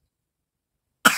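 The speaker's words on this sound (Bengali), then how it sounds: "কাশি হচ্ছে কাশি" A child gives a single short, sharp cough right at the end, loud and close after a long stretch of silence.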